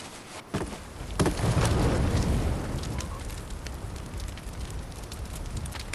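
Campfire in a zombie survival video game, a steady crackling, roaring burn with scattered sharp pops, loud and close, swelling after a second and continuing without speech.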